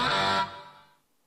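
A new-order notification chime from the Eats Australia driver app running in the background rings out once, bright and clear, then fades away within about a second.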